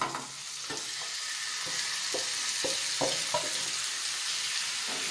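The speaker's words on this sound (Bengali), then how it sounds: "দিয়ে একটু হাই ফ্লেমে আমি এটাকে মিনিট পাঁচে ভালো করে চিকেনটাকে ভেজে নেব।" Marinated chicken pieces with browned onions fry on high flame for a Bengali chicken curry, giving a loud continuous sizzle broken by several sharp spoon scrapes and stirs.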